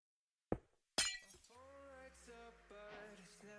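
A glass block breaks in a video game on a server lobby build: two sharp, crisp cracks half a second apart, followed by a sustained ringing, tonal layer of game audio, with no talk.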